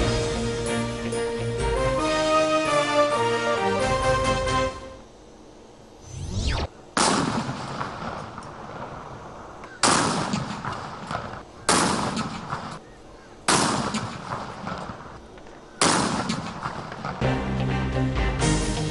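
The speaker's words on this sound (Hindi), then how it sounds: "कौमी रिहाड़े की शुरुआत मुल्क के मुख्तलिफ शहरों में की तोपन की सलामी से कई वही" Cannons fire a salute for Pakistan's national day, with a series of heavy, widely spaced booms ringing out loudly outdoors, following a stretch of music.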